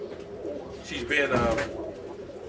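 A hen pigeon in a kit box gives a short, soft coo, with someone talking over it and the bird sound partly masked.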